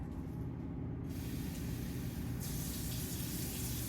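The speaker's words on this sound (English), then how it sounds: "and then we're gonna add 1 cup of water to that." A cup of water is poured into an apple dessert mixture, giving a steady hiss and splash that swells partway through and stays close and continuous.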